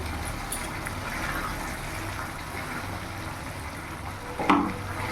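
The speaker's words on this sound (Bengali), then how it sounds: "এইভাবে কিছুক্ষণ একটু পালংয়ের সাথে মিশিয়ে একটু ফুটিয়ে নেব" Paneer and spinach simmering in a pan, a steady soft sizzle and bubbling throughout with a brief clink of a spoon or utensil near the end.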